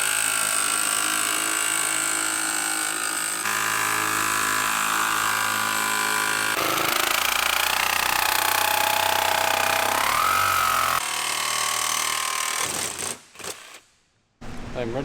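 A power tool cuts a shape out of aluminum sheet for a car firewall on a Datsun. It makes a loud, continuous whine with shifts in pitch, runs for about twelve seconds, then stops abruptly.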